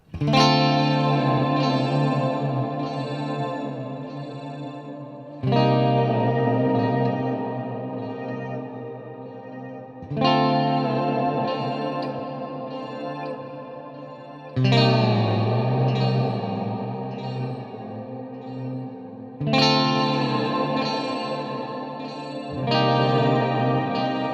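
Electric guitar chords through stacked EHX Canyon and Oceans 11 shimmer pedals, with a lush, wavering shimmer, swelling and bending in pitch, restruck roughly every five seconds and ringing out with long reverb.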